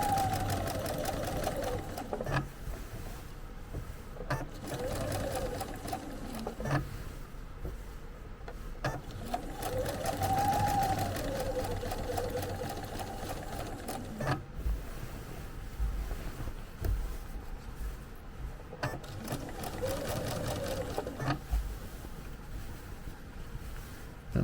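Sewing machine stitching around curves on a quilt, running in soft bursts with short pauses between runs as the needle stops and the fabric is turned.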